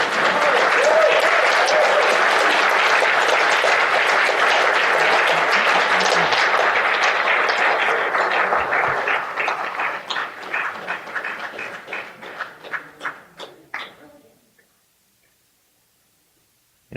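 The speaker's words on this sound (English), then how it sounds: "And so that's not enough applause. One more time." Enthusiastic crowd applause after featured poets perform at an outdoor poetry and barbecue event, dense and loud for several seconds, then thinning into scattered individual claps before fading to silence.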